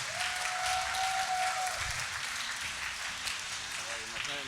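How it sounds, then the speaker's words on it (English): A chamber of commerce monthly meeting audience applauds steadily as a guest walks out, a dense wash of clapping that holds at even loudness with a faint whistle-like tone early on and some crowd voices underneath. "Glen, come out to your round of applause."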